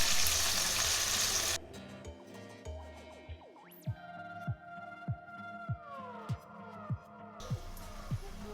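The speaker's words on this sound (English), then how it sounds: "for the second fry, I fry at a higher temperature for about 20 seconds maximum" Spare ribs deep-frying in hot oil on the second, hotter fry, the sizzle loud at first, then dropping to a low bubbling with a steady series of soft, regular thumps before the sizzle returns near the end.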